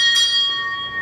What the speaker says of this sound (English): Oh, they're ringing the bell, here we go.